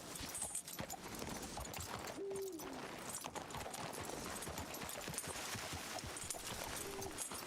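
Horses led on foot in the video game RedM clop along at a walking pace, faint and steady, with a couple of brief bird hoots rising above the hoofbeats.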